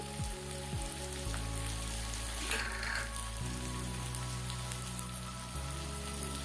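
Potatoes fry in hot oil with a steady crackling sizzle like rain on a surface, over a low electrical hum that shifts pitch a few times.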